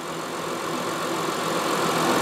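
A tractor or automobile engine runs steadily during a battery charging test, a dense, even idling drone, close and fairly loud with no voices.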